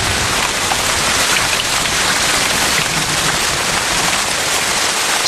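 Heavy rain pours down steadily in the Amazon rainforest, a loud, dense and unbroken hiss of drops striking foliage and surfaces, with no pauses or voices.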